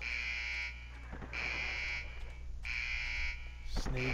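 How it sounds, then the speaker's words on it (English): An alarm in the first-person shooter Iron Storm blares in repeated long buzzing bursts, loud and close, with a brief rattle of other game sounds near the end. "The alarm's going off."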